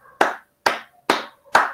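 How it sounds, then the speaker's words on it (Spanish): A single person claps hands four times at an even, unhurried rhythm, each clap close, crisp and loud with silence between. "Lo estás aplaudiendo, lo estás applauding."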